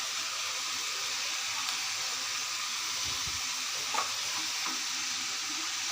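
Ginger, garlic and cumin paste fries in a pan for a mixed vegetable dish, giving a loud, steady sizzle with a brief soft stir and clink near the middle, and no talk.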